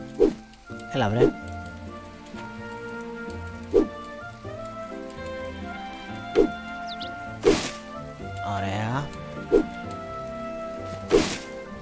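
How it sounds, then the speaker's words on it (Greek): Steady rain patters in the farming life-sim game My Time At Portia, a continuous soft wash under a backdrop of game music with recurring sharp plucked or tapping accents. "Όπο βροχή σου λέω"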